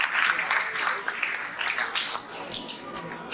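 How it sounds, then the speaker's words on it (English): An audience at a children's science show applauds a six-year-old presenter, a diffuse wash of clapping filling the space, moderately loud, with faint voices mixed in. "Please, a round of applause for the ages"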